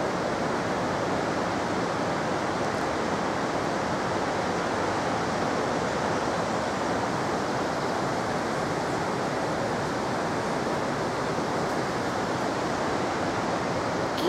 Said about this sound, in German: Und hinter mir seht ihr einen wunderschönen Wasserfall.